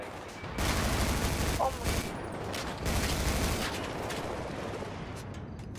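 Sustained bursts of gunfire in a GTA roleplay shootout at the Humane Labs, a rapid clatter of shots that swells and continues for several seconds, with a brief spoken exclamation.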